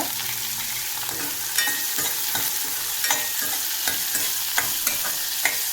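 Onions sauté in a pan for broad beans poriyal with a steady close sizzle, broken by regular scrapes and knocks of a spatula stirring them.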